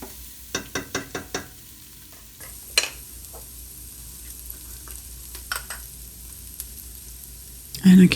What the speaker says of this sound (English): we'll give that a stir